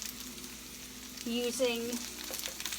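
Noodles stir-fry in a hot skillet for a Southeast Asian dish, a steady sizzle rising in bursts as the food is tossed and stirred, with a brief spoken word over it.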